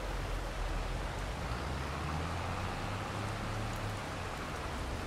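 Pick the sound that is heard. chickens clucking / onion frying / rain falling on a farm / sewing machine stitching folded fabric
rain falling on a farm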